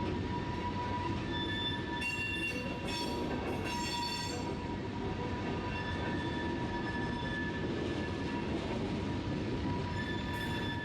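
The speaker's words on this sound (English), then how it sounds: "our train will make a double diverging move across the main lines" A freight train carrying iron ore pellets rolls slowly across main line tracks toward a steel mill, wheels squealing in sharp bursts over a steady rumble, heard from nearby with no talk.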